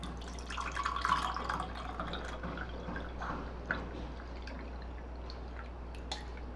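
Kokum buttermilk sol kadhi with garlic and chili pieces is strained, producing a soft, faint trickle and drip of liquid that peaks early and then continues quietly on its own.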